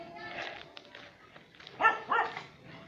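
A dog barks outdoors near coconut trees and bamboo, giving a few short, moderately loud barks, two of them strongest near the end, with faint whimper-like sounds between them.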